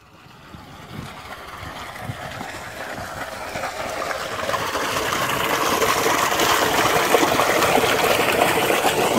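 Water gushes from a pipe of a solar-powered tube well in Pakistan, rising from the ground into a tank. The flow is a steady, broadband rush that slowly grows louder, with no voices.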